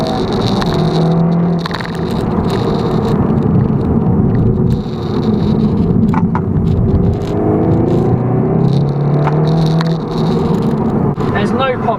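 A 2019 Seat Leon Cupra R driving, its engine a steady loud droning hum with rising and falling revs beneath road noise, while someone talks over it inside the cabin.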